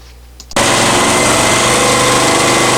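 A Honda EX1000 generator running hard under heavy load, loud, rough and rattling, starting abruptly after a quiet moment and droning on continuously, close up.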